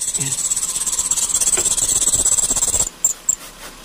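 A petrol car engine runs at high revs with belt noise and vibration from a badly wobbling crankshaft pulley: a steady, close hiss with a high, thin whine that cuts out near the end, followed by a couple of brief knocks.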